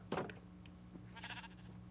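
A farm sheep in the Minecraft video game lets out a short, faint bleat near the start, followed by a softer trailing bleat against a quiet background hum.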